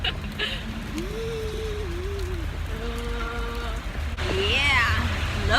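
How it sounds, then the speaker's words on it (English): Heavy pouring rain hisses steadily across the whole stretch while hikers walk through it, with voices and a few short vocal sounds over the continuous downpour. "We're walking in the pouring rain."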